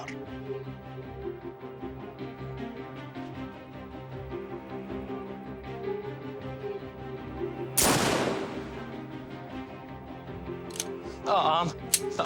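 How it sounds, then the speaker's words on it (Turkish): A single sharp gunshot cracks out of a rural Turkish period drama scene, its loud broadband blast decaying over about a second above steady background music, followed later by a shorter, fainter crack. "Ağam silah attılar."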